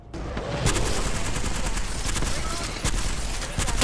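Rapid bursts from the L-STAR energy gun in the video game Apex Legends, sharp repeated shots in quick succession forming a dense, steady volley with brief gaps and faint voices underneath.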